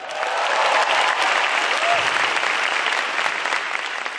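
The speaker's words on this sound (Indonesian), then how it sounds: "Boleh pindah tepuk tangannya yuk." Audience applause fills a theatre during a stand-up comedy grand final, steady dense clapping and cheering heard alone for the whole stretch, close and loud.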